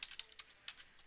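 Short run of typing on a computer keyboard: several crisp, quiet key clicks in an uneven rhythm, close and isolated.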